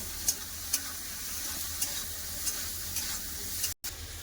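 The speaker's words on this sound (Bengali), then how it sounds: "তেল গরম হয়েছে চিংড়ি মাছ ভেজে নেবো" Shrimp coated in salt and turmeric powder fry in hot mustard oil, giving a steady, close crackling sizzle with occasional sharper pops. A brief dropout comes near the end.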